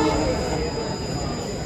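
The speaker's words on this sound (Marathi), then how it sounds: "आता बघू शकता आपली लोकल आलेली आहे" A Mumbai local train pulls into a crowded platform near noon, a steady broadband rumble and rail noise holding close and loud throughout, with crowd and voices mixed beneath.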